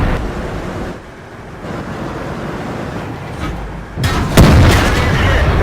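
A tank cannon fires in World of Tanks, an M103 heavy tank in battle, giving one loud booming blast near the end over a steady low rumble of engine and ambient noise.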